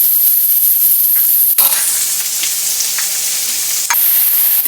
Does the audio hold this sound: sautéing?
yes